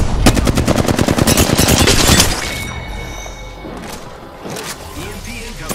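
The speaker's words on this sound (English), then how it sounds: "Opening fire on the enemy." Rapid automatic gunfire from a video game battle, a loud close burst of rapid shots lasting about two seconds, followed by scattered thumps and softer effects.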